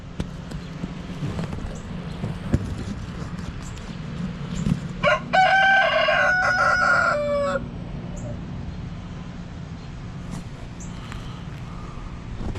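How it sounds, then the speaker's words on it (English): A good-sized rooster crows once, a loud, clear drawn-out call rising over background noise partway through, with scattered knocks and bumps around it. "He's a pretty good sized rooster."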